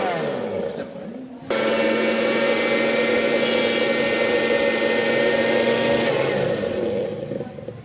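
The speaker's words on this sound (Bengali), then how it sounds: "এখন কিন্তু আমার ব্লেন্ডার বন্ধ ছিল, ঘুরতো না। এখন দেখুন আমি ফুল চাপ দিয়ে ওপেন করে দিচ্ছি।" A Vision heavy-duty kitchen blender motor whirs up loudly after a short quieter stretch, then runs at a steady high-pitched drone for several seconds before easing slightly near the end.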